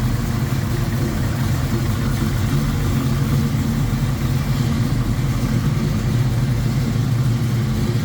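A 1967 Ford Mustang's 347 stroker V8 with an Edelbrock intake idles steadily and loudly, a continuous low rumble with a slight lope that holds for the whole stretch, no voices over it.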